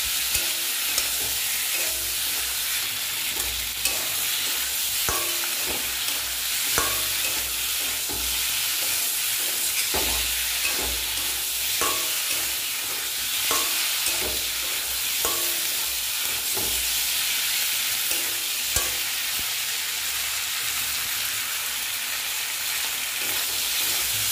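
Curry sauce with turmeric and green chili sizzling in a pan, a steady frying hiss broken by repeated scraping stirs at an irregular rhythm, close and continuous with no voices.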